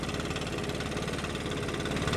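A Stihl BR600 backpack leaf blower engine idles up close with a steady, buzzy mid-pitched drone and even pulsing throb, no talking over it.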